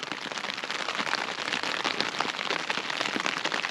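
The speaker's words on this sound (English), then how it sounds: "I don't mind the rain, it's quite nice, especially on a tent." Rain pattering on a tent during a solo wild camp at Silver How, a dense, steady crackle of close drops hitting taut fabric with no voices.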